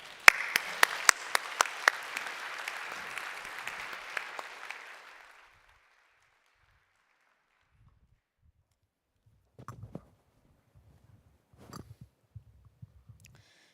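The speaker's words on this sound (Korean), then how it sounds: "우리 나오실 때에 우리 박수로 환영해 주시길 바랍니다" A church congregation at an Easter Sunday service claps in welcome. The applause is fairly loud at first and fades out within about five seconds, followed by quiet with a few faint thumps and rustles.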